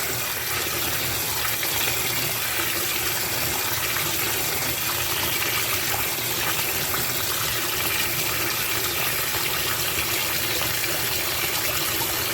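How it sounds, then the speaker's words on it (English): Coconuts are washed under running water, a continuous close gushing splash of tap water filling steadily throughout, with no talk. "So I'm just washing the coconut"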